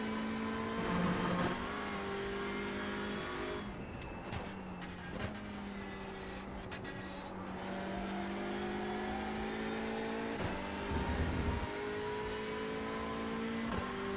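A touring car engine in the iRacing sim at Laguna Seca holds a steady drone and then climbs in pitch through rising revs under throttle, with a brief shift dip and a continuous mid-level roar.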